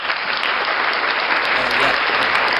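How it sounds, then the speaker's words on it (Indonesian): Podcast participants clap together in a student podcast on organizational life, a dense, steady burst of applause lasting a couple of seconds, close and fairly loud with no talking over it. "Aplaus untuk kita semua."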